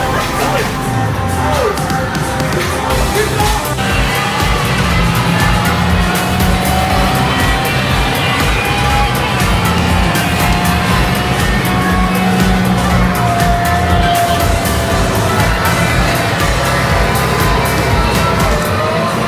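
A car engine revs and pulls away over a steady wash of traffic noise, with tire squeal and a distant crowd in the background; the drive carries on continuously throughout.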